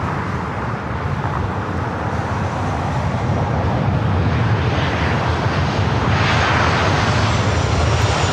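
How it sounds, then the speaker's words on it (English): A Southwest Airlines Boeing 737-800 arriving at Los Angeles International Airport gives a loud, continuous jet engine roar that swells slightly as the plane approaches, with faint road traffic beneath. "Arrival is Southwest Airlines 2787 coming in from San Francisco on the 737-800"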